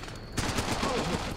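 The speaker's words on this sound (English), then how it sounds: "Shooting at me." Gunfire in the video game Running with Rifles comes as a rapid burst of automatic shots, loud and close, starting abruptly and continuing in a dense rattling stream.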